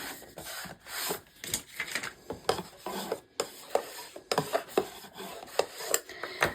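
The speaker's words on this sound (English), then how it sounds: "Make sure I burnish it all down." Glued cardstock pressed and burnished down by hand, giving close, irregular bursts of scraping and rubbing strokes with short gaps between them.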